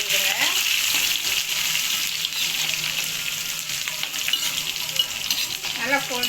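Onion and garlic are stirred and fried in a pan for egg curry, making a continuous bright sizzle with scraping and stirring noises and a few brief clinks.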